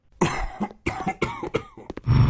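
A video game character in Trader Life Simulator coughs in several separate, close bursts of varying length, heard alone without speech, ending on a sustained noisy note.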